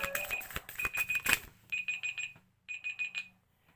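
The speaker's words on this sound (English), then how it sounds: "Had a timer on" A kitchen timer alarm going off in rapid bursts of bright electronic beeping, loud and close, with two separate ringing spells broken by short pauses.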